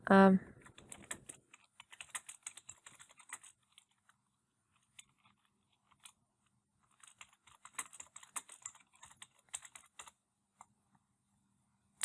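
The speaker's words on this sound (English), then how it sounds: "So you can type any of the question." Keys on a computer keyboard are tapped out in quick bursts as a poll question is entered, with soft clicking runs separated by brief pauses and no talk over the typing.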